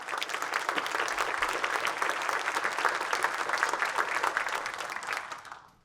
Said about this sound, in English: Please join me in a round of applause to thank them for their support.